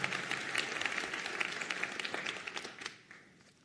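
Applause rises for nursing MSN graduates at a college graduation ceremony, a dense wash of many hands clapping in a large hall that fades out near the end.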